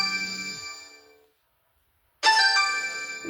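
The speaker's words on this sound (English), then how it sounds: "There's a phone call coming in." An incoming phone call rings with a melodic electronic ringtone, one ringing burst that fades into a second of silence before a second burst starts loud and close.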